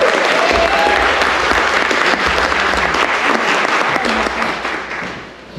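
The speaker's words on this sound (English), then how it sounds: "give him applause, the dude" A crowd gives loud, sustained applause for actor Andrew Divoff at Charles Band's Church of Chills horror show, close and full before fading slightly at the end.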